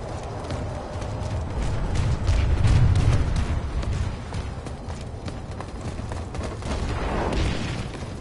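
A shield generator blows up in the Planetside 2 shooter, a loud, sustained rumble of deep booms rolling for several seconds, heaviest near the middle and tailing into ongoing crackle.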